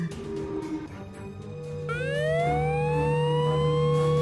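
A Siren Head siren in the Minecraft video game wails loudly, rising in a long upward sweep and then holding a sustained tone over background game sounds.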